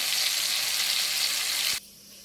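Chopped tomatoes and green chilies sizzling in hot oil in a pan, a loud, dense, steady hiss that cuts off abruptly to near quiet.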